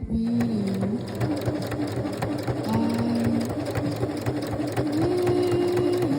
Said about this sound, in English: Now I'm going to sew that all together after interfacing the pieces.